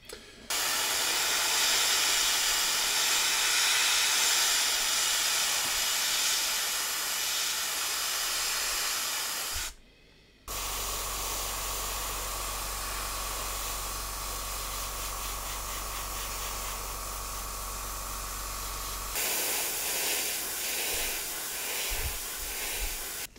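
An airbrush sprays Tamiya LP27 German grey lacquer onto the bridge of a 1/200 Bismarck model ship, giving a loud continuous hiss that breaks off briefly midway and then resumes steadily without talk.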